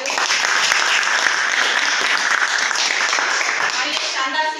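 Seminar audience bursts into loud, sustained applause, many hands clapping together in a dense, even roar that holds for several seconds before tapering slightly at the end.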